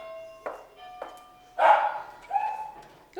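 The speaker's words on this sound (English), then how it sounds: "Oh, there's a dog." A dog at a home barks a few times, short sharp yips followed by a louder bark and whine, close by and moderately loud with little else around.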